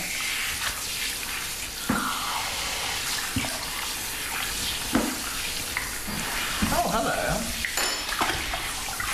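Bath water runs steadily into a bathtub, a continuous close rushing wash with a few knocks and splashes, while people talk briefly over it.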